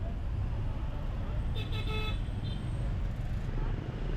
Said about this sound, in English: Hanoi has a lot of traffic.